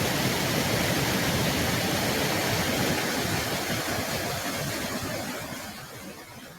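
A waterfall in Guinea gives a dense, steady rushing roar that fills the whole clip, loud and unbroken, then eases slightly toward the end.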